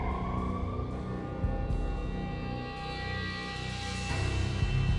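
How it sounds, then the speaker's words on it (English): Police sirens wail in the video game Max Payne, a loud rising and falling siren tone sweeping over a dense rumbling backdrop, with no speech. "I could hear the sirens. Their wail was a crescendo."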